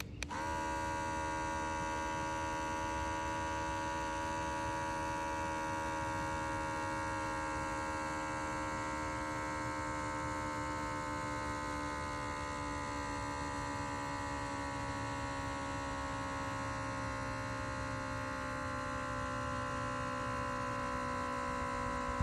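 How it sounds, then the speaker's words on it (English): TONUNI portable electric ball pump running steadily while inflating a ball, a continuous loud motor hum with stable tonal whine throughout, alone with no talking. "So I'm gonna be quiet for a moment and let you listen while we pump this ball."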